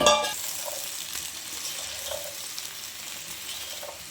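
Meal maker soy chunks and okra fry in a pan with a steady close sizzle, a few soft stirring scrapes rising out of the hiss now and then.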